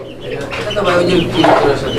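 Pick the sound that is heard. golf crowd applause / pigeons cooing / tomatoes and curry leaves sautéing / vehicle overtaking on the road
pigeons cooing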